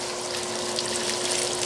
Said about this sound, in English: Go ahead and shower the flashlight.